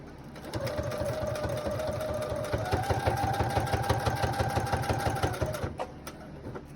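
A sewing machine stitches a fabric clothing cover, or adult bib, in a loud, steady mechanical run of rapid needle strokes lasting about five seconds, then stops, with no voices.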